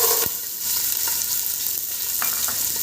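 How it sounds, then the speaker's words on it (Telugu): Green peas fry in hot oil with cashews and garam masala spices, a loud, dense, steady sizzle close up, with a few light scraping knocks of a spatula and no voices. "వేగిపోయాయి బఠానీలు మొత్తము"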